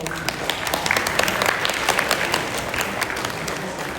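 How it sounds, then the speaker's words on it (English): An audience at a school fall athletics awards event applauds twenty cross country racers, giving sustained, crisp clapping from many hands at a moderate distance. "round of applause for our 20 racers"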